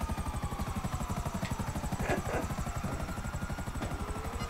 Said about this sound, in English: I got my stealth helicopter